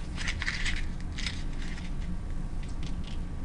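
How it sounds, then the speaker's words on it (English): Painted watercolor paper being crumpled into a ball by hand, giving soft, close crackling and crinkling bursts in an irregular rhythm over a quiet room background. "you're going to take them and actually just crumple them into a ball"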